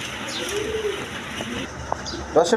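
Pigeons at a Bengali pigeon seller's stall give soft, low coos, with a few brief chirps near the end. Someone talks over the birds throughout.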